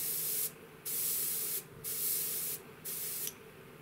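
An airbrush sprays paint for dock camouflage in three hissing bursts separated by short pauses, each a close, steady spray alone with no talk.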